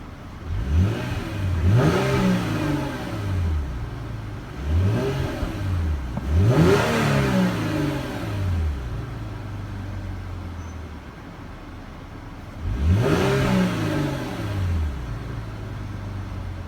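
Three sharp revs from a 2015 Hyundai Genesis Coupe 3.8 V6 engine, each climbing quickly and settling back to a rumbling idle, recorded up close with no talking.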